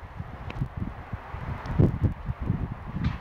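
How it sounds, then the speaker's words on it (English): Strong, cold winter wind during snow flurries buffets the microphone in low rumbling bursts, strengthening and easing over a few seconds. "It's really windy right now"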